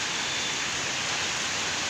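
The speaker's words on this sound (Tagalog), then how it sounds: "Para lalong lumakas ang ulan." Heavy typhoon rain pours in a dense, steady hiss with no gaps, loud and close throughout.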